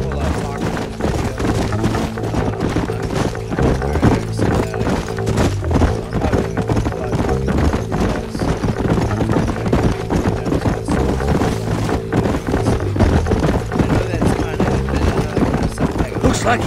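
Horse hooves gallop in a rapid, steady clip-clop rhythm in the video game Red Dead Redemption, loud and continuous over a low rumbling soundtrack, with speech mixed in.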